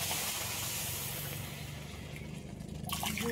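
Water poured into a pan to make sugar syrup for jalebi, a soft, continuous hissing splash at low volume that rises slightly toward the end.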